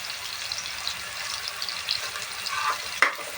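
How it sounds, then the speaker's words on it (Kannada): Curry leaves hiss and crackle in hot frying oil while tomato bath is cooked, a steady close sizzle with a sharp pop near the end. "ಸ್ವಲ್ಪ ಕರಿಬೇವಿನ ಸೊಪ್ಪು ಇದು ಹಾಕ್ಕೊಳ್ತಾ ಇದ್ದೀನಿ"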